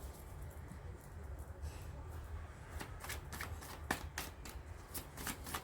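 Tarot cards being shuffled by hand, a steady papery riffling that turns into sharper, distinct card snaps in the second half, close and alone with no talk.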